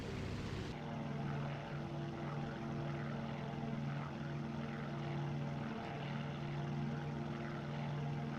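Droning propeller engines of bomber aircraft in the IL-2 Sturmovik flight game, a steady loud hum with layered engine tones holding throughout.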